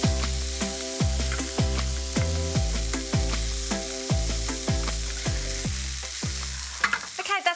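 Onion, carrot and garlic frying down in a pan for a meat pie filling, a close continuous sizzle under a steady backing of musical notes, with a brief clatter at the end and no talk.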